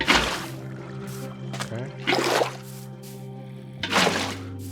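In a base-building survival video game, water is placed to fill an area level, heard as three separate soft pouring and splashing bursts over a steady low hum, with one brief spoken word.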